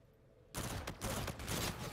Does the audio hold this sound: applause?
no